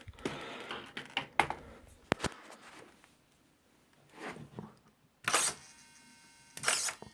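Retractable landing gear on an E-Flite UMX P-47 model plane cycling, with short mechanical whirs and clicks in separate bursts and quiet gaps between them, heard up close.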